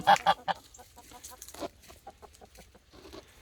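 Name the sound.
chickens clucking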